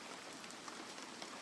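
Steady patter of raindrops falling on a surface at night under a tree, a continuous soft hiss with faint scattered drip accents, quiet and unbroken with no voices.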